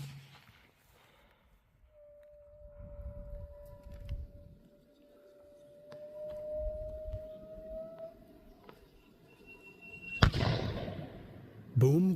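A 60mm mortar round is dropped into the tube and fires on a military range, a sharp loud blast near the end following a long steady tone and background murmur.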